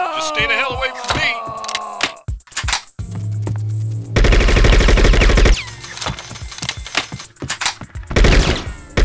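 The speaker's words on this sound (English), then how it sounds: "Taking fire here!" Gunfire in the video game Bad Boys 2: Miami Takedown, loud bursts of shots and rapid automatic fire mixed with game sounds and shouting voices, dense and continuous through most of the scene.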